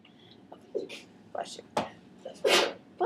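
A sharp sneeze rings out during a precalculus class amid soft, scattered whispering and quiet shuffling sounds.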